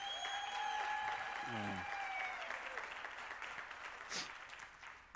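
Audience applause at a future-of-work dialogue event, with broad clapping from the crowd that swells at the start and gradually thins out, while a speaker's voice carries briefly over the clapping.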